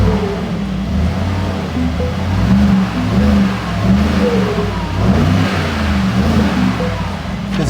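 A car's engine in Sport Plus mode revving and accelerating, a loud, close, throaty drone that rises and falls in waves over several seconds.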